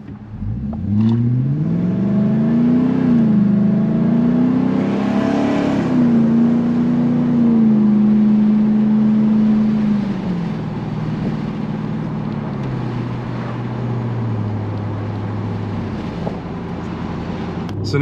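A 2022 Ford F-250 Tremor fitted with a cold air intake drives past with a loud, close engine drone that rises as it accelerates, holds steady, then eases down while wind rushes over the microphone.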